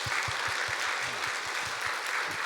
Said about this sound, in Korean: 우리 한번 격려와 응원과 칭찬을 담아서 박수하도록 하겠습니다